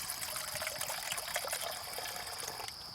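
Water trickling and pouring steadily into a cup for a single serving of oatmeal at a bushcraft campsite breakfast, a soft continuous splashing stream with no talk.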